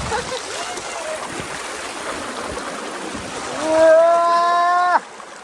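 Fast-flowing water of the Mahisagar river rushes steadily and close, then a rising tonal whistle or squeal cuts in near the end before stopping abruptly.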